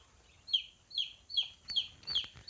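A baby chick in a garage brooder peeps over and over, about six sharp, high chirps at an even pace, close and clear against a quiet background.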